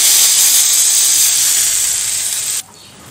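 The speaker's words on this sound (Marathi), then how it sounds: "तडका पॅन मध्ये मी तेल गरम करून घेतलेलं आहे, यामध्ये आपण जिरं घालूयात, 1 मिरची आणि कढीपत्ता घालूया, त्याचबरोबर थोडासा हिंग घालूया आणि हा तडका आपण या चटणीवरती घालूयात" A hot tadka of oil with cumin, green chilli, curry leaves and asafoetida hits coconut chutney in a loud, close, steady sizzling hiss that drops off abruptly near the end.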